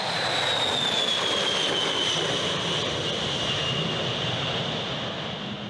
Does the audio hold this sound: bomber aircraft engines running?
yes